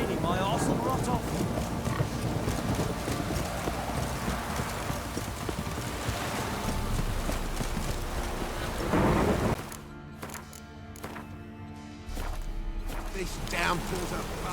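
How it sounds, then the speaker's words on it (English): Heavy rain pours steadily in The Witcher 3 video game while thunder rumbles and horse hooves clop, and a voice speaks over the storm before it briefly quiets and returns. "This downpour's a bastard, it is."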